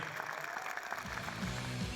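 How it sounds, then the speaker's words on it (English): A crowd at a season ticket holders event claps continuously for returning players, the applause sounding a little distant while a voice talks over it. "give them a big round of applause"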